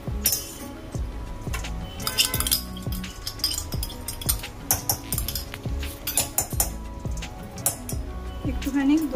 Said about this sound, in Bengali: একটুখানি দইটা দিয়ে এটা একটুখানি মিলিয়ে নিই।